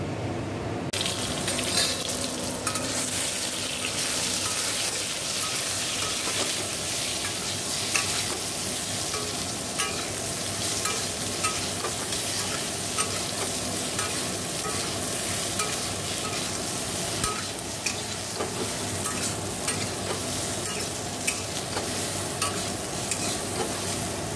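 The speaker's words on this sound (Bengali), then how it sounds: "তো বেগুনগুলো আগে ভেজে নিই, তারপরে কথা হবে।" Brinjal pieces fry in hot oil with a loud, continuous sizzle and occasional stirring clatter from up close, no voices present.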